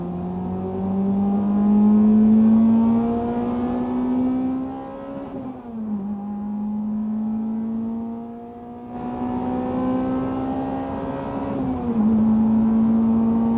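Toyota Celica GTS with a 2ZZ-GE engine revving hard in second gear, a loud rising engine note that climbs steadily, dips briefly on lift-off around the middle, then pulls again before settling to a steady drone.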